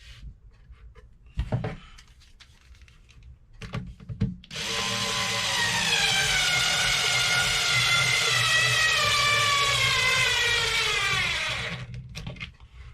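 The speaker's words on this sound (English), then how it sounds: "Not the best of screwdrivers, but it works" A power screwdriver drives screws into bookcase wood on a boat, a long, loud, steady whirring with a slowly falling pitch, preceded by a few brief bumps and handling knocks.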